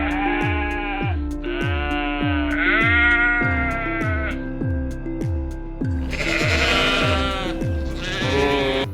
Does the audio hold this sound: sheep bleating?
yes